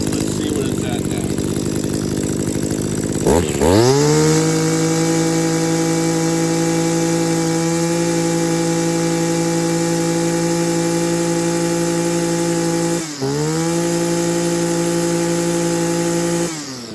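An Echo PAS-266 powerhead two-stroke engine with a suspected coil fault runs loud and close at high steady revs, briefly dipping and surging back twice as it cuts out momentarily.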